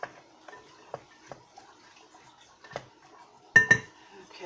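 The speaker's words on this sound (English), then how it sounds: "I'm just going to grab my spoon. I'm going to give that a bit of a stir." Light clinks of a spoon against a bowl while stirring peppers, onion and tomatoes, a sparse series of soft taps ending in a couple of louder knocks; no voices.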